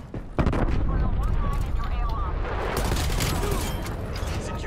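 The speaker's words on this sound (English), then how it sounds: "napalm strike" A napalm strike in Call of Duty Cold War on the Nuketown map: a sharp blast opens a sustained roaring rumble of explosions and fire that continues loud and dense throughout.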